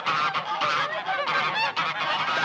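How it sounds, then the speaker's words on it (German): A flock of geese being driven into a stable honks and cackles loudly and continuously, many overlapping calls close by with no pauses. "Schnatternde Herde in den Stall,"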